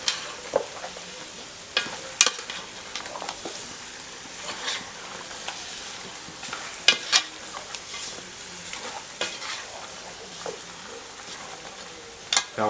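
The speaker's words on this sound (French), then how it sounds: "Faire revenir un tout petit peu avant de rajouter le bouillon qu'on a réservé tout à l'heure" Pig's trotters stew sautés in a pot, a steady gentle sizzle broken by repeated scraping and knocking of a spoon against the pot as it is stirred, close and moderately loud with no voices.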